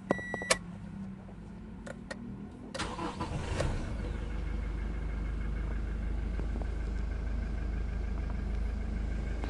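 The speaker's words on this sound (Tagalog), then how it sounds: "start ko na itong makina ni customer." Toyota Innova with a fault that makes it die after starting: a few beeps and clicks, then the engine cranks and catches, settling into a steady, fairly close idle that continues to the end.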